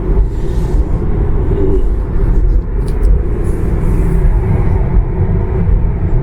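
Steady road and tyre rumble inside a Tesla Model 3 Standard Range Plus cruising at 80 km/h on a highway, a continuous low drone of even loudness with no talking.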